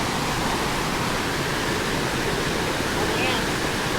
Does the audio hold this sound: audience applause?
no